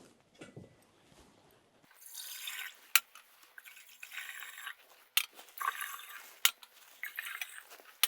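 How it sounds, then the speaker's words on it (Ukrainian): Water is poured into an aquarium holding tennis balls, heard as quiet, irregular splashing bursts and drips after a near-silent start, with a few sharp knocks in between. "Тож, наповнимо його водою."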